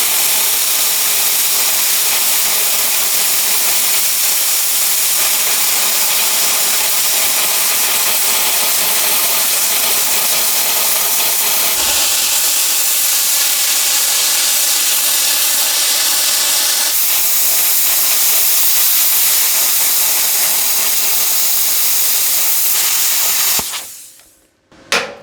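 A VEVOR CUT-50P plasma cutter slices through quarter-inch metal with a loud, steady, broadband hiss that runs unbroken for over twenty seconds, shifting slightly in tone partway through before cutting off abruptly at the end.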